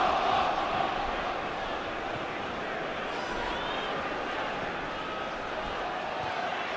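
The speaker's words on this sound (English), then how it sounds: "you can hear the crowd shouting off" Football crowd at Stoke City v Liverpool shouting in a large stadium, a steady distant roar of voices under a commentator's continuous talk.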